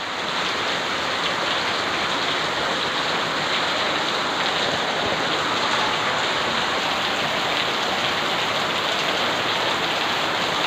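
Heavy rain pours down in a village, a loud, dense and unbroken rush of water lasting the whole stretch with no speech.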